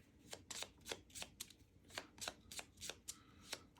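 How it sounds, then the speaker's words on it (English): A deck of board game cards is shuffled by hand, a quick run of soft riffling snaps and flicks in an irregular rhythm, close and quiet. "Oops, shuffle all of his cards."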